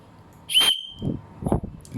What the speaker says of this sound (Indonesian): Yang kedua adalah ini peluit, cukup kencang